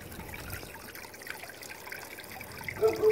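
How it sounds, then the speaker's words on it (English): Water trickles steadily into a small garden pond made from a blue ceramic bowl, a soft continuous dribble heard close up with no talking. "this is a pond that I've had going for a long time. All it is a blue ceramic bowl"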